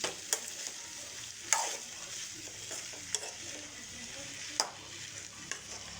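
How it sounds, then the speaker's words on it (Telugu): Pumpkin pieces are stirred in a pan with onion and curry leaves, giving a quiet sizzle broken by a few distinct scraping and tapping strokes of a spoon, close and faint. "ఇప్పుడు దీంట్లోకి మన గుమ్మడికాయ వేసుకుందాం ఇలా గుమ్మడికాయ అంతా కలుపుకోవాలి"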